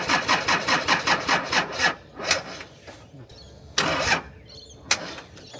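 A Td42 diesel in a GU ute cranks without catching after sitting unused, with rapid rhythmic starter churning for two seconds, then several short separate bursts of cranking split by pauses, close and loud.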